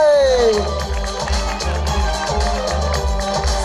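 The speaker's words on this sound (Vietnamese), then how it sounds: "Quý vị hãy dành một tràng pháo tay nồng nhiệt chúc mừng đội đạt giải nhì" Crowd applause and cheering at a football league awards ceremony honoring the second-place team, a loud, dense wash of clapping and voices blended with music playing throughout.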